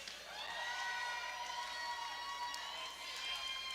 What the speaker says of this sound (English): Let's get some noise for Traverse City.